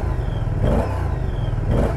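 A cold 2023 Moto Guzzi V100 Mandello motorcycle engine idling just after starting, a deep, close rumbling thrum with two brief blips of the throttle that rise and fall.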